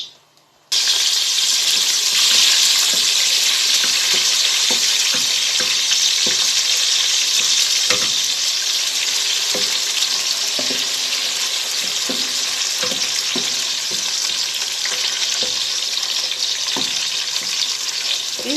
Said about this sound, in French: Nous allons frire les oignons.